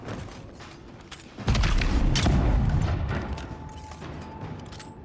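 Gunfire in the fantasy action game Avowed: a heavy boom hits suddenly, followed by a dense rumbling burst of blasts that slowly fades into a quieter crackle of combat noise.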